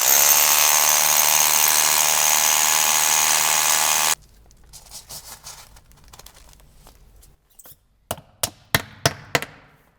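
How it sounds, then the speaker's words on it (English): A hammer drill bores through foam insulation board into a concrete basement wall with a loud, continuous, close rattling grind. It then stops abruptly and is followed by quieter handling rustles and several sharp knocks. "we're going to hammer drill through the foam into the concrete wall"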